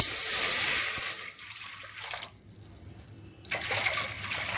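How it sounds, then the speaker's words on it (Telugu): Water pours into a large cooking pot on a stove, with a loud rushing splash at first, a short near-silent break, then a second stream of pouring. "చూడండి, నీళ్ళు వేస్తున్నాను"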